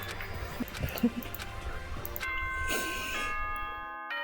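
A two-note ding-dong chime from the video game Danganronpa 1 rings out clearly after some low background sound, sustained tones ringing on briefly and fading to silence.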